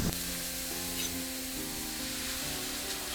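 Beaten egg poured into the middle of a hot pan beside vegetables, for egg fried rice, sets off a dense, continuous sizzle with a faint tonal hum underneath. No speech is heard.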